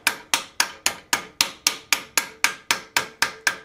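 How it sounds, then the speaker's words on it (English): A hammer strikes metal held over a French repoussé ball stake in a vise, about a dozen sharp, evenly spaced ringing blows in a fast steady rhythm, close and loud, with no talking. "you can hammer over this stake"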